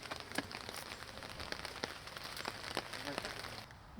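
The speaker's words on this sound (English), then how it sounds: "there's some rain today" Soft, steady rain pattering on a surface, with scattered drops ticking irregularly throughout; faint and continuous.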